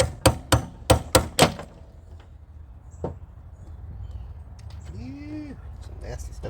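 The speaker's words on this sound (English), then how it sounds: "Had to get a proper hammer, guys." Five sharp, close metal hammer blows strike a seized Champion pump engine in quick succession, followed by one more isolated hit and a quieter stretch with faint squeaks and voices.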